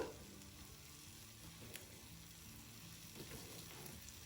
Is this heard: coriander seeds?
yes